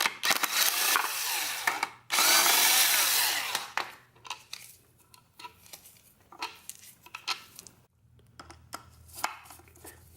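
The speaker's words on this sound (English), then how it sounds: "I used an impact screwdriver to get it loose" Impact screwdriver loosening a tight Phillips screw on a 1998 Talon 7-bolt engine bottom end during disassembly, two loud harsh bursts of rattling impact at the start, followed by a series of scattered clicks and knocks from handling parts nearby.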